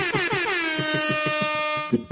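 An air horn blasts at a sports event, a loud sustained blaring tone with a pulsing flutter, lasting nearly two seconds before cutting off, close and dominant.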